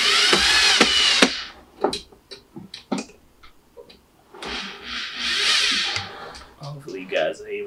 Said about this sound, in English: Let's see if we can get our screw down through that.